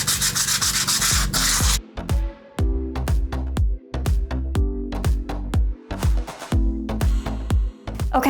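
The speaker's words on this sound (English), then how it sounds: "Do you see the edges here? They just need sanded." Sandpaper is rubbed in short, rhythmic strokes along wooden panel edges, a dozen or so brisk scratchy passes with brief pauses between them, close and clear with no talking.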